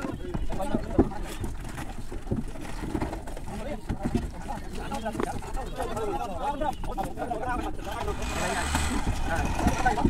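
Loaded fishing boats pull in at the Pakhiralay ferry ghat in the Sundarbans, with a steady low engine rumble and splashing water across the whole stretch and voices nearby.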